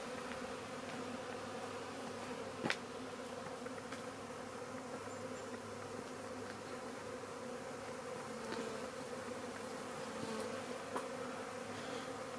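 Honey bees hum and buzz around beehives outdoors in a dense, steady drone, with a few individual bees passing close by.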